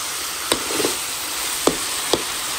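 Pork frying in a pan as it is stirred, a steady sizzle under a few sharp scrapes and clinks of the utensil against the pan, close and fairly loud.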